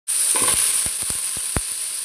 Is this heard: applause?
no